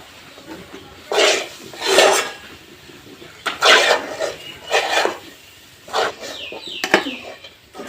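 Rice flour dough worked by hand, in a kitchen, gives repeated soft rubbing and scraping bursts, each lasting around half a second, with an occasional light clink of a utensil between them, close and fairly quiet.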